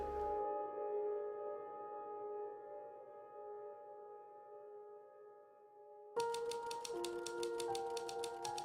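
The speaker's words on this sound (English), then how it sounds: "with the sound of the typewriter the only sign he was even in the house" Rapid mechanical typewriter keystrokes from the video game The Novelist start abruptly late in the clip, a dense clatter of clicks over a sustained tonal ambient music bed.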